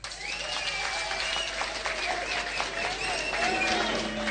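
A large crowd at a Raila rally in Westlands, Nairobi breaks into sustained clapping, with cheers and whistles mixed in, loud and unbroken for about four seconds.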